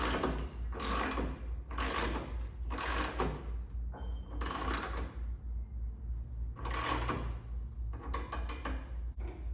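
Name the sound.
jack raising a Harley Davidson motorcycle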